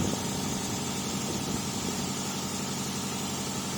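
A car engine idles steadily, a low even hum with faint vibration throughout, no speech.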